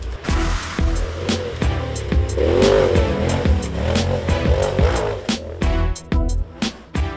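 Polaris RZR XP 1000 off-road vehicle, loud and close, engine roaring and revving hard in rapid bursts as it speeds past a tree, gears cutting in and out with choppy rhythmic surges.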